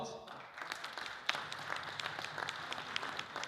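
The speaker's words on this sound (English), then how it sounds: "Round of applause." An audience at a Rotary club gathering gives a round of applause, a soft, fairly distant patter of many hands clapping that holds steady throughout.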